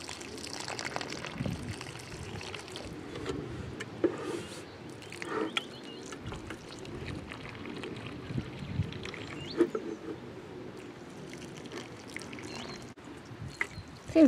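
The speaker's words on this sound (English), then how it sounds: "watering in leeks, just fill the hole and let the soil wash in around them" Water poured from a watering can into leek planting holes, washing soil in around the seedlings; a steady, soft trickle and splash runs the whole time at moderate distance, with faint outdoor background.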